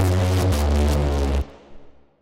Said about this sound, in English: Now if we get started with the first bass, it's the re-space Punisher.